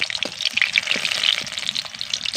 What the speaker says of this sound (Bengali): এবার পিঠেগুলোকে আমি লাল লাল করে ভেজে নেব